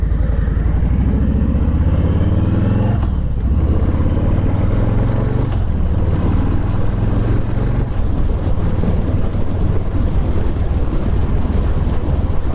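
A 2020 Harley-Davidson Lowrider rumbles steadily under heavy wind buffeting as it is ridden, its low engine drone continuous and loud with shifts in pitch as speed changes.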